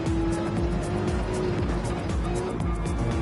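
GT3 race cars lap the Red Bull Ring in Gran Turismo 7, a steady high engine drone holding near one pitch with faint tire noise beneath, continuous and fairly loud without talk.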